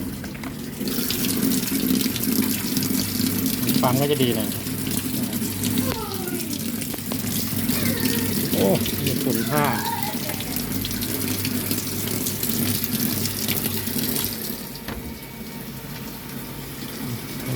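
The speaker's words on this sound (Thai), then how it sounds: "น้ำเริ่มไหลเข้านะ" Water pours steadily into an LG Inverter WT-R1141TH top-loading washing machine with a constant rushing flow, while a voice speaks briefly over it in the background.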